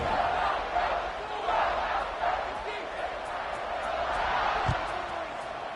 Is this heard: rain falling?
no